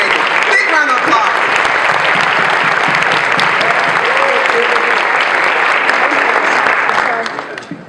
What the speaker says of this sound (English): Give him a huge round of applause, the leader of Social Capital Incorporated.